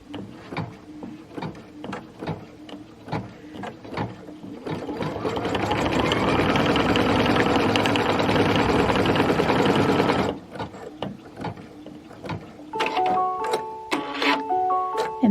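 A sewing machine stitches a small star appliqué on a Kimberbell Cup of Cheer project, running in one steady close burst of about five seconds between soft handling clicks and a few brief beeps.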